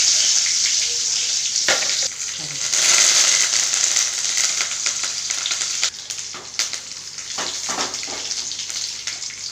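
Mustard seeds and urad dal crackle and sizzle in hot sesame oil for a tempering, a steady bright frying hiss with scattered pops and spits throughout, close and fairly loud.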